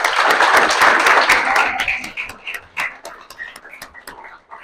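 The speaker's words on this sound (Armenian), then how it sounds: "Ծափարենք" A school audience applauds students at a pronunciation contest: a dense burst of clapping that thins out into scattered, individual claps as it fades over a few seconds.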